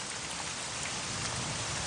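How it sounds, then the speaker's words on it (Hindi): Heavy rain pours down steadily in a dense, continuous hiss, a downpour in a cartoon scene, close and even throughout with no voices. "बहुत तेज बारिश है ये"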